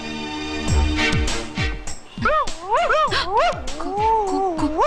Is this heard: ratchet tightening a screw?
no